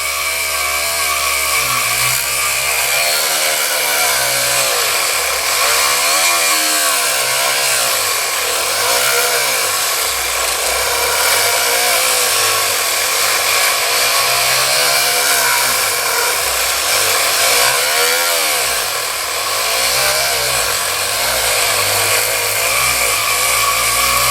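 A power tool running steadily with 180 grit abrasive on the loading port of a Stoeger M3000 shotgun, a loud continuous whine with slight pitch swells throughout, no talking.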